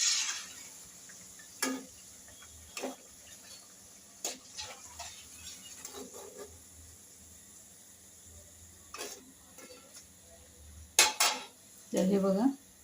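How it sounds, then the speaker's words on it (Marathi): Fried taro leaf vadis being lifted out onto a plate, heard as sparse, quiet clinks and scrapes of utensil against metal over a faint background hum, with a brighter clatter near the end. "तर आता मी एका ताटामध्ये काढून घेते."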